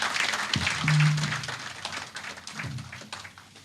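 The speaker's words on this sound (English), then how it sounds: "One more round of applause, please." An audience at a Tullow Ghana alumni launch event gives a round of applause, a moderate burst of clapping that swells then tapers, with a voice heard briefly over it.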